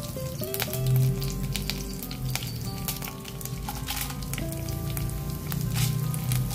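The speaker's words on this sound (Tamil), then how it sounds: "பட்டை மிளகா கொஞ்சம் வறுக்கணும்" Dried red chilies with fennel and curry leaves frying in hot oil in a pan, a steady close crackling sizzle with a few scraping stirs, with no voices.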